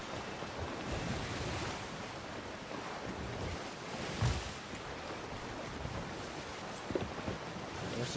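Wind rushes steadily over open sea in the pirate game Sea of Thieves, with broadband gusting and surf-like washes around a sailing ship, fairly loud and constant, swelling briefly midway, with no voices.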